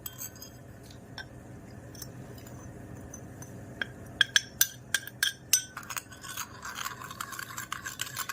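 Beetroot powder being stirred into water in a small container, heard as light scraping followed by a run of sharp clinks against the sides, close and fairly quiet with no voices.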